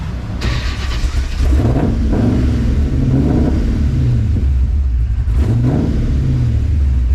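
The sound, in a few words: swapped V8 truck engine idling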